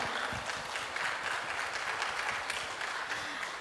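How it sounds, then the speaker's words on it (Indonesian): Audience clapping fills a hall during a madrasah open house event, a dense, steady wash of many hands with a few low thumps, continuous throughout with no voices on top. "Tepuk tangan untuk kita semuanya."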